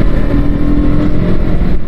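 Steady engine drone of a KTM RC 125cc motorcycle, loud and continuous for a couple of seconds with a rough low rumble and no clear rise in pitch, heard alone without talk.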